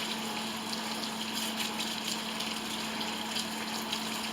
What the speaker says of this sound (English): First I'm just going to wash my hands